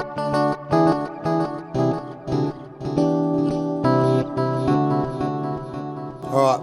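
Electric guitar routed through a Meris Enzo pedal, a Walrus Audio Slower and HX Effects, playing rich synth-like chords and notes with swelling delays and sustained tails, alone, up close and loud.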